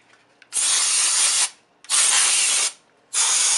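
Canned cold air blasts dust out of a salvaged HP Celeron desktop in three loud, close hissing bursts, each about a second long, separated by short quiet gaps with faint clicks.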